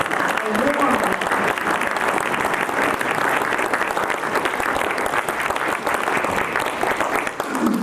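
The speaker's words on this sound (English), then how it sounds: "Let's give her a round of applause" An evening author-event audience at a library foundation gathering gives a sustained round of applause, dense even clapping filling the room at close range with a few voices mixed in.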